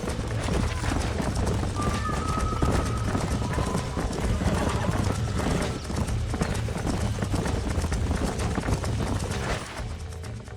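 Horses in the Red Dead Redemption video game clip-clopping at a steady trot throughout, with a brief whinny early on and continuous hoofbeats under ambient game sound.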